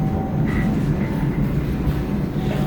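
A train runs steadily through the dining car on the through route from Khabarovsk to Yakutsk, a continuous loud low rumble and rolling drone with faint clicks, no voices over it.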